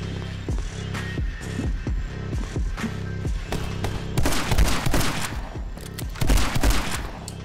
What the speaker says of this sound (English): This is my new favorite gun, the shotty.